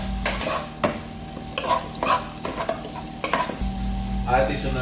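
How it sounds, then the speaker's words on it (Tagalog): Onions frying in a pan for Bicolano-style sautéed dried anchovies, stirred with repeated sharp scrapes of a utensil over a steady close sizzle, no talking. "Haluin lang natin to hanggang sa maghiwalay yung ating"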